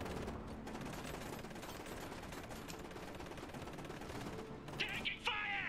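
Dense, continuous gunfire and battle noise from the video game Iron Harvest, a steady loud rattle of rapid shots with mechanical clanks near the end and faint game voices mixed in.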